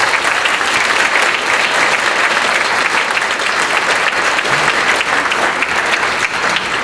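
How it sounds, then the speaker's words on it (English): Loud, sustained applause fills a tribute event hall, a crowd clapping densely and evenly throughout with a faint murmur of voices mixed in. "let's give her a big round of applause for all her work"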